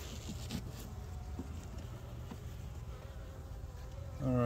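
Steady droning hum of many honey bees buzzing close by around a hive, continuous and even, with a brief louder knock at the very end.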